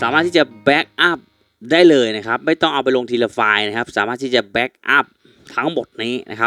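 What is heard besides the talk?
No everyday noise stands out behind the speech.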